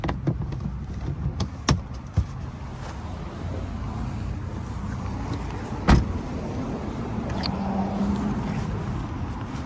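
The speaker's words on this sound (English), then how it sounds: "drop that rear window with the key if you want" Power rear window of a lifted 2020 Toyota 4Runner SR5 lowering, a steady low motor whir running through the whole stretch with a couple of brief clicks and a sharp knock partway.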